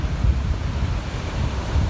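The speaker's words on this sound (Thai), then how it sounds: "คลื่นกระทบชายฝั่งนะครับ" Storm waves from Cyclone Pabuk pound the shore at Tha Chana bay in a low, continuous rumbling surge, heavily buffeted by strong wind noise, with no voices.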